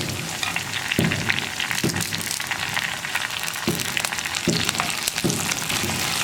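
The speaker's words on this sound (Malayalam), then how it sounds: "ഉള്ളി ഒന്ന് കളർ ചേഞ്ച് ആയി വരുന്നത് വരെ ഇളക്കി കൊടുക്കുക" Onions, dried red chillies and curry leaves sizzle in hot oil in a pan for churakka sambar. The crackle is close and steady, broken by regular thuds of stirring, and no one speaks.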